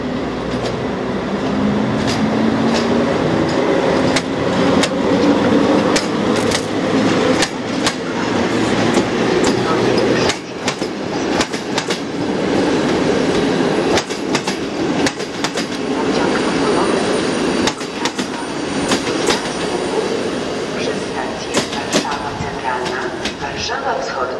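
Electric locomotives EU44-001 and EP07-338 at a station platform, loud rumbling and rolling rail noise with clickety-clack wheel beats and occasional squeals throughout, alongside a station announcement voice.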